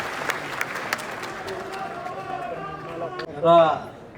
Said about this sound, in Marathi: पुन्हा एकदा जोरदार टाळ्या चंदन शिवे यांच्या.